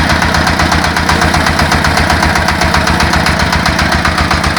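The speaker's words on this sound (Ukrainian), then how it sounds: "Ось такий у нас тракторець з гідравлікою." A small homemade mini tractor engine, built from a walk-behind tractor, runs steadily at idle, a continuous chugging, knocking rumble with fast rhythmic pulses, close and loud throughout.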